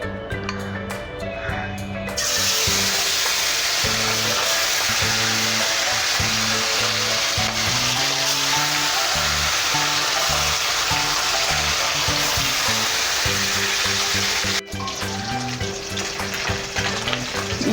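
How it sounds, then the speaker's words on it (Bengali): Bhola river fish frying in hot oil, a loud, continuous close-up sizzle with crackling bursts that swells after a quieter start and briefly drops near the end. "ভোলা মাছগুলো এবারে ভেজে নেব।"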